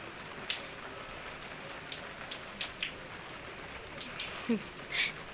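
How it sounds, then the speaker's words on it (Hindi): Light rain falls outdoors with a steady patter and scattered distinct drips close by, along with a few faint background sounds. "वैसे भी बारिश देखो कम हो गई है अभी, पहले तेज़ थी अब कम हो गई"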